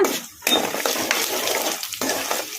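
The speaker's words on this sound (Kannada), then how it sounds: "ಇವನ್ನೆಲ್ಲ ಮೀಡಿಯಂ ಫ್ಲೇಮಲ್ಲೇ ಫ್ರೈ ಮಾಡ್ಕೋಬೇಕು ಶೇಂಗಾ ಬೀಜ ಕಡಲೆಬೇಳೆ ಉದ್ದಿನಬೇಳೆ" Peanuts, chana dal and urad dal frying in oil over a medium flame for village-style raw mango chitranna, with steady close sizzling, scraping and stirring clatter that pauses briefly near the start and again around two seconds.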